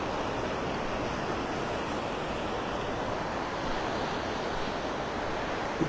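Incoming tide washing ashore at Delnor-Wiggins beach in North Naples, Florida, a steady broadband rush of surf with soft wind noise, continuous and moderately distant, no voices.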